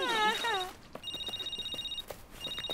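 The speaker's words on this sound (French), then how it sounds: "John, il y a le téléphone qui sonne." A cartoon telephone rings in repeated bright electronic bursts after a short vocal exclamation, with the ringing fairly close and clear between pauses.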